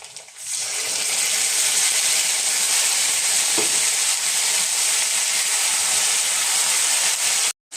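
Grated coconut fried with spices in a pan for jackfruit curry, with ginger and dry chilli paste added, sizzles in a loud, steady hiss throughout, with light stirring scrapes and no talk.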